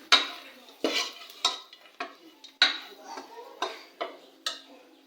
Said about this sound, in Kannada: ಈಗ ಸ್ಟವ್ ಆಫ್ ಮಾಡಿಬಿಟ್ಟು ಇದನ್ನು ಸ್ವಲ್ಪ ಈ ಥರ ಕೈ ಆಡಿಸ್ಕೊಳ್ಬೇಕು.